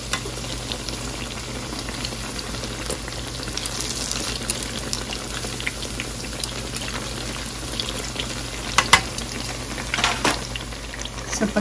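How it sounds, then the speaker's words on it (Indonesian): Tempe mendoan in batter frying in hot oil, a steady close crackle and bubbling sizzle with a few sharper pops, continuous and without voices throughout. "Kita goreng hingga garing atau berwarna kecoklatan."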